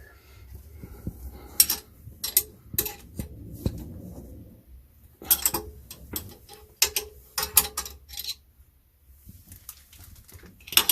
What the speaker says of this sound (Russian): теперь уже можем затягивать, опять-таки поочередно, поджимаем уже эти винты